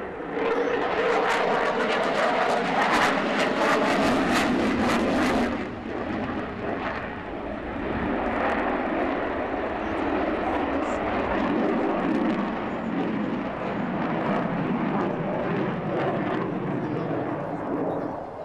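A Royal Air Force Typhoon jet roars through a square-loop display manoeuvre at an airshow, loud and sustained with a surging engine rush that eases off, while a commentator talks over it.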